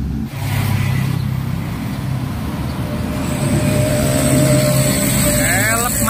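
A Mitsubishi Canter truck labors up a steep climb, its engine droning loud and steady with rising revs, close to the cab, while a voice speaks over it.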